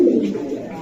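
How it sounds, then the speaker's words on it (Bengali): A young adult male feather-footed pigeon gives one short, low, throaty coo close by, filling the brief moment. "এই যে ফেদার নর কবুতর আমি একটু দেখাই, নিউ অ্যাডাল্ট।"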